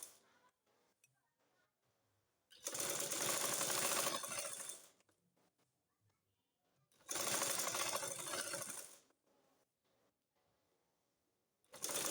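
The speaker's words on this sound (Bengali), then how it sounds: "এখন আমি গলাটা সেলাই করে নিয়েছি" A sewing machine stitches the neck of a gathered kuchi burqa in two loud bursts of about two seconds each, with quiet pauses between and the start of a third burst at the end.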